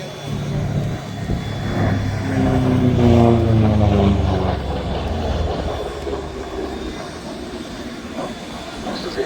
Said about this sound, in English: today that honour fell to this, the P-47D Thunderbolt